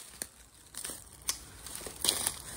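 Thorny branches being trimmed back in the woods: close, brittle crackling and snapping of twigs in a few short, uneven bursts, with rustling between them.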